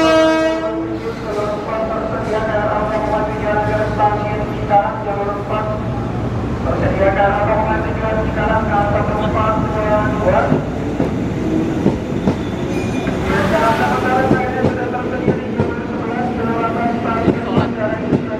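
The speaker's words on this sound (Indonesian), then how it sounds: "TM6001 KLB KRL tidak untuk penumpang masuk jalur 9, jalur paling pojok di sisi barat stasiun Manggarai." TM6001 KRL electric commuter train running as a special non-passenger service into track 9, the far western platform at Manggarai station, rumbling steadily with wheel clatter and a loud horn blast near the end, people talking throughout.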